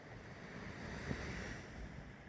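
Gentle sea waves on a calm stretch of the Andalusian coast wash in softly, giving a faint, steady surf hiss with a light swell midway and some wind noise, with no voices.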